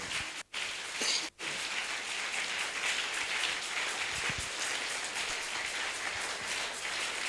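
A church congregation applauds during worship, a continuous dense patter of many hands with two brief dips early on, steady and fairly far off for the rest of the stretch.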